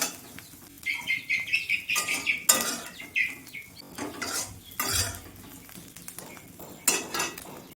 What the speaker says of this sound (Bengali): চিংড়ি মাছ ভাজা হয়ে গেছে, তুলে নেব।